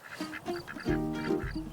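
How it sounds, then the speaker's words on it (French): Several Indian Runner ducks quack in a short, loud burst of harsh, overlapping calls close by in a garden, following softer quacking at the start. "une brigade anti-limaces qui sont les canards coureurs indiens"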